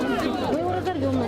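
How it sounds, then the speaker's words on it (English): A brief burst of an angry Donetsk crowd yelling at a seized pro-Ukrainian captive: several loud, strained voices shout over one another at close range, with a low murmur of more people beneath. "But most of the crowd bay for his blood."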